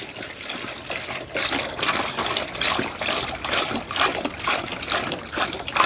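Water pours and gushes steadily into a container, with a splashing, trickling rush close by that rises slightly as it fills.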